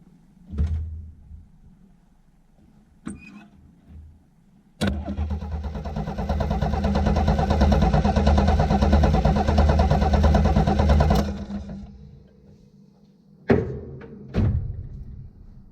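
A vintage vehicle's engine cranks over during a compression test: a steady rhythmic starter churn of about six seconds, loud and close, framed by a few sharp clunks and thuds before and after.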